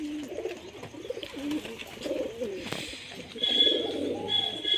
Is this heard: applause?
no